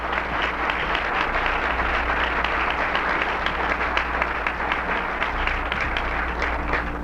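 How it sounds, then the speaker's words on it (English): An audience in a college hall applauds after a song, a steady, sustained roar of many hands clapping at even loudness throughout, with a low hum beneath. "Go ahead and clap"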